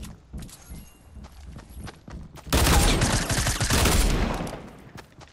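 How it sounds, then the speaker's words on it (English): Dense burst of Fortnite gunfire erupts midway, loud rapid shots layered over scattered earlier pops and footsteps, continuing for a few seconds before tapering. "Bro, stop shooting me"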